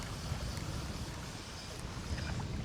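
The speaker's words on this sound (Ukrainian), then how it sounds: "Це вже не вітерець, це вже страшенний вітрюган" Strong storm wind at a fishing pond buffets the microphone in a constant low roaring rumble, loud and close, with no letup.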